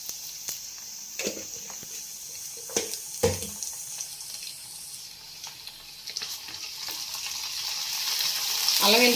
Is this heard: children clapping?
no